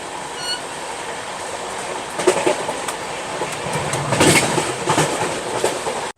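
An Indian Railways Ranchi Rajdhani Express rushes through a railway station without stopping, kicking up dust. Its loud, steady roar of carriages and wheels runs throughout with clattering rail joints and sharp metallic bangs, and nobody speaks.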